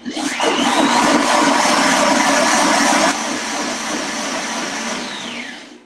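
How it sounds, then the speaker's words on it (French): A kitchen blender whirs steadily, blitzing chopped rhubarb for a tart, its loud motor pitch rising at the start, holding for several seconds, then winding down. "Je vais redonner un autre coup de mixeur."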